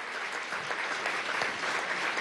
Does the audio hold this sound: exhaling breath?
no